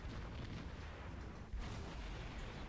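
The naval guns of the USS St. Louis fire in World of Warships, producing a faint, distant, rumbling boom with one sharper burst midway through a low, continuous roar.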